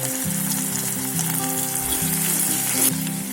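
Ginger-chili paste and chili pieces sizzling in hot oil for farali samosa filling, a loud, steady crackle close up with a faint low hum underneath and a brief flare near the end.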